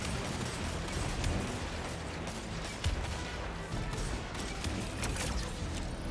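Heavy cannon fire in the Destiny 2 Grandmaster Nightfall The Arms Dealer, a dense continuous barrage of booming shots and blasts with a few sharper bursts, loud and sustained throughout.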